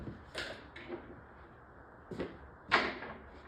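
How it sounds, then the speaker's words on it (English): Back door panel of a Konami Alpine Ski arcade cabinet coming off, giving a few soft knocks and scrapes followed by a sharper clunk near the end, close by in a quiet room. "looks like the back door is ready to come off"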